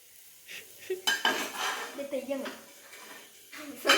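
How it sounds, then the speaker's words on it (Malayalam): Soya chunks fry in a pan while a utensil scrapes and clinks against it in short bursts of stirring, with a faint sizzle underneath; the sounds are close and fairly quiet. "അതാ അപ്പൊ സോയ ഫ്രൈ അവസാന ഘട്ടത്തിലേക്ക് കടന്നിരിക്കുകയാണ്."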